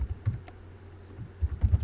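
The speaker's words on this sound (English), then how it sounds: "opening up your browser and typing learning.cmo.edu" Keyboard typing in short clustered bursts of soft clicks, quiet and close, with brief pauses between groups of keystrokes and no voice.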